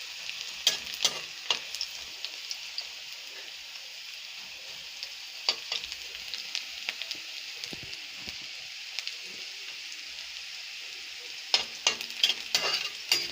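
Crushed garlic fries in hot oil for a nil kachu dish, hissing in a steady high sizzle with scattered pops and occasional stirring scrapes, close up and with no talk.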